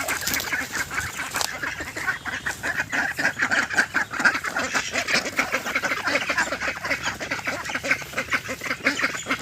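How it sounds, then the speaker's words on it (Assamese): A flock of about twelve domestic ducks in a home courtyard quacks loudly and continuously, with many overlapping, rapid honking calls close by and no talking. "এইফালে ৰাখিছোঁ হাঁহ।"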